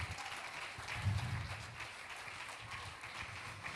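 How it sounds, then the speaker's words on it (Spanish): Brief, fairly quiet applause from a church congregation during a sermon, a short burst of clapping lasting a few seconds. "Denle un aplauso para Él"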